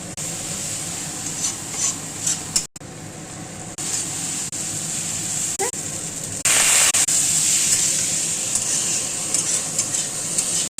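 Coriander paste sizzles loudly in a hot pan for papad curry, stirred with steady scraping strokes, the hiss swelling brighter partway through, close and continuous with no talk.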